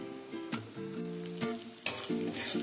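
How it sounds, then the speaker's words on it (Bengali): Ginger garlic paste sizzling with fried onion in a pan while cooking chicken dak bungalow, a steady hiss broken by a few louder stirring scrapes and bursts. "আদা রসুনটাকে কিছুক্ষণ একটুখানি ভেজে নেব যাতে কাঁচা গন্ধটা চলে যায়।"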